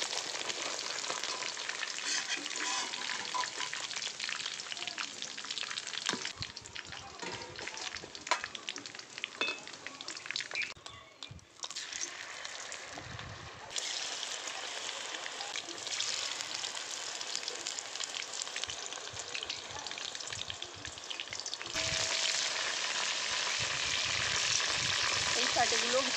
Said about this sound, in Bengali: চিকেন শাটেগুলো ভাজা হয়ে গেছে